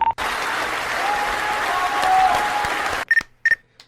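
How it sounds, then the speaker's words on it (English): A quick round of applause from a small group on a podcast, about three seconds of dense, steady clapping that stops abruptly, followed by a few brief voice sounds. "I'm going to give you a quick round of applause here"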